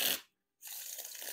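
Riffle shuffling a deck of Theory11 Gold Artisan playing cards, a quick close papery riffle, a brief pause, then a longer soft flutter of cards settling, quiet and alone.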